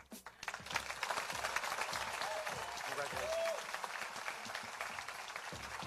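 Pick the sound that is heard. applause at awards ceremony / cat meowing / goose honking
applause at awards ceremony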